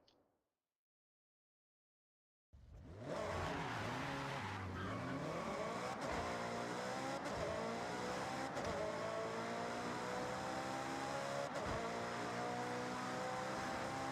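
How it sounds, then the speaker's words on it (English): A car in Forza Horizon 6 takes turns at speed after a short silence, its engine note rising and falling through the gears with sharp shift cuts and some tire squeal, loud and close the whole way. "I'm just going to drive it for a second, just take some turns at speed"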